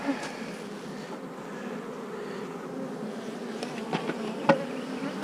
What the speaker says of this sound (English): Let's put this hive back together before they get any more cranked up.